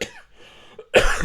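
One man gives a short, rough cough and then a louder, harsh second cough that trails off, close to the microphone and alone.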